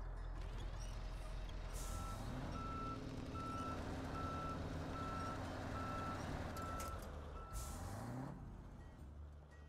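A heavy truck reverses in the Snowrunner video game, its steady rhythmic backup beeps sounding over a constant rumbling engine, with hissing air brake bursts near the start and end.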